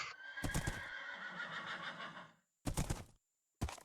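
A horse neighs in the Minecraft video game, a loud, close whinny lasting about two seconds, followed by two shorter, sharp snorting bursts separated by silence.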